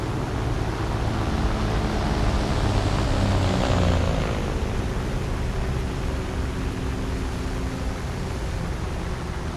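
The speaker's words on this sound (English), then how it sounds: "Sunderland's going in for a landing." Short Sunderland flying boat in a video game coming in to land, a steady loud propeller-engine drone and broadband rush that swells briefly near the middle, then holds level throughout.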